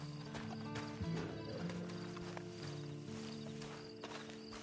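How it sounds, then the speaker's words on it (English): A horse in the video game Red Dead Redemption 2 walks with steady clip-clop hoofbeats and a brief whinny, set against a dense, continuous game ambience and music bed. "And you better get on this horse."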